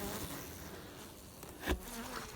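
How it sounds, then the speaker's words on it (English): Honey bees buzzing in an open hive box heavy with honey, a faint steady hum with a brief nearer buzz passing by midway. "there's your bees"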